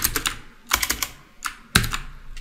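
Fast bursts of keystrokes on a computer keyboard with an American layout, close and crisp, in four quick clusters separated by short pauses, with no voices.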